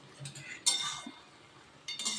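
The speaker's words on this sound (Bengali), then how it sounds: "এই যে 2 মিনিট পর আমি ঢাকনাটা খুলে দিচ্ছি।" A metal lid comes off a pot of simmering vegetables with ridge gourd, giving a sharp clink followed by a second clatter a moment later, close and fairly quiet over a hushed kitchen background.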